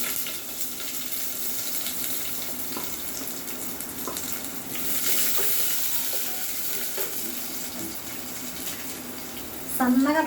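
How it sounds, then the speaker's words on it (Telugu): Chopped onion frying in a pan for an okra and mutton curry, a steady moderate sizzle with light stirring clinks and a brief louder burst near the end. "ఎర్రగడ్డ వేస్తున్నాను"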